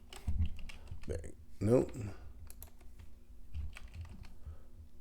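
Computer keyboard typing in short clusters of clicks, moderately close, with a voice briefly speaking over it and a steady low hum underneath.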